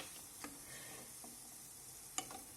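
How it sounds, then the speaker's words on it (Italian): Sweet ricotta culurgiones frying in a pan, giving a faint, steady sizzle and crackle with a few soft ticks and bumps, and no voices. "La frittura procede"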